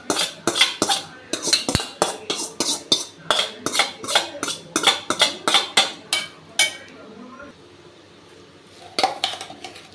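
A spoon scrapes and clanks against a metal cooking pot as sautéed vegetables are mixed in for healthy aval kozukattai, giving quick rhythmic knocks close by with a short pause before a few more.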